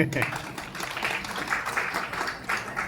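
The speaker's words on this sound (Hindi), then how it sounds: "अगर अच्छा लगा तो तालियां बजा दीजिए" Applause from an audience at an International Women's Day event, a faint, continuous patter of many hands heard at a distance in a large room, with some voice mixed in.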